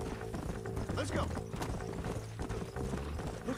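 Horse hooves clip-clop in the video game Red Dead Redemption in a steady rhythmic trot, up close and mixed with jingling tack and other game sounds.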